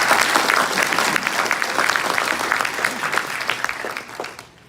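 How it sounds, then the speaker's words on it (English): Steady, dense round of audience applause at a scholarship ceremony, loud and continuous, fading toward the end. "Let's give them a big round of applause."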